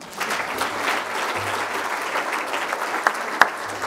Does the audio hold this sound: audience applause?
yes